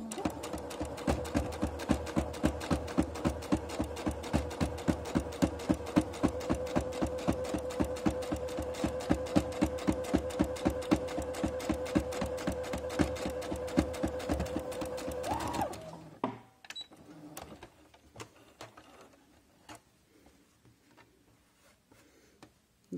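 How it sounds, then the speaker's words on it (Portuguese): A sewing machine stitching a patchwork Mexican star quilt block, running in a fast steady rhythmic clatter for about fifteen seconds, then stopping, leaving a few faint clicks and handling sounds. "eu vou costurar todos"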